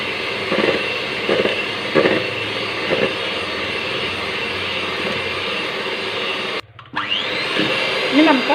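Electric hand mixer beating eggs at low speed for red velvet cake batter, a steady whirring motor drone with faint rhythmic scraping, briefly cutting out near the end before restarting.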